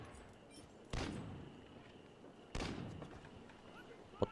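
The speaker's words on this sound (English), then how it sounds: "Where am I hearing gunshots?" Two faint, distant gunshot-like bangs from a Call of Duty match on a YouTube video playing in the background, each a short broadband burst with a trailing decay over a quiet room hiss.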